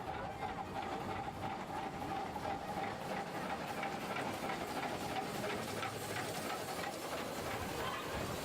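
A train engine on a mountain railway in Austria gives a steady, moderate rumble with rhythmic rail clatter and a faint whine running underneath.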